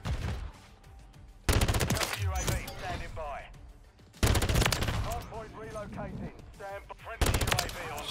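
Bursts of rapid FFAR rifle fire from Modern Warfare 3 come in three loud strokes, with a player's voice talking between and over the shots.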